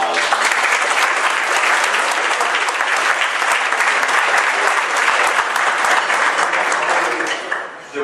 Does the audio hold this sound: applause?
yes